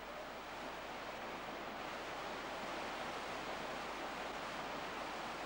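A waterfall by a cave in Colombia roars as a steady, broadband rushing wash that stays constant and unbroken throughout, with no voices.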